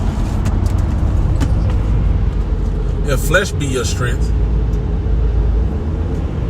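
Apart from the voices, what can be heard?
early morning road traffic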